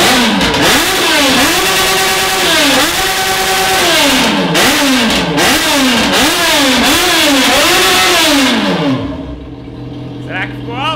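A Yamaha XJ motorcycle fitted with a 32.50 aftermarket exhaust revs repeatedly up and down in close, loud rhythmic blips before dropping away to quiet near the end.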